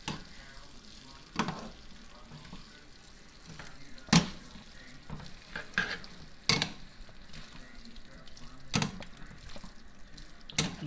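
Tongs toss fettuccine through a thick cream carbonara sauce in a pan, producing soft wet squelches and occasional sharp metallic taps against the pan, fairly quiet and close, with a faint steady hiss behind.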